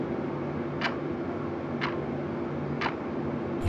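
Clock mounted above a doorframe ticking about once per second, three crisp ticks over a low steady background hum.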